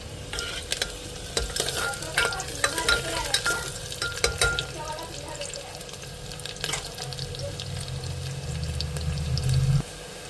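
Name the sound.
frying chili and onion with bottle gourd and Maggi masala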